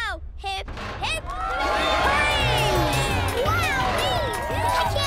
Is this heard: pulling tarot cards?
no